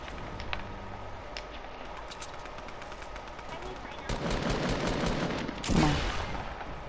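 Distant crackling gunfire in Fortnite rattles on steadily, swelling into a denser, louder volley near the end over a constant background hum.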